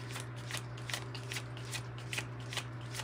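Tarot and oracle cards shuffled and pulled, a quiet run of soft papery riffles and flicks repeating in a loose rhythm over a steady low background hum, close by and without talk.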